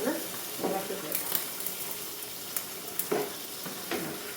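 Chicken curry seasoned with roasted curry leaf powder is stirred in a pan, with a dense sizzling hiss and repeated spatula scrapes at an even pace, close up.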